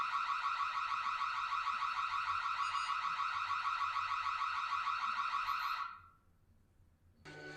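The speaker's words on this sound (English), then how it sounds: "turn off the alarm. Does it have to beep until she..." An electronic alarm in a Mr. Robot episode beeps in a rapid, pulsing pattern for about six seconds, then cuts off abruptly.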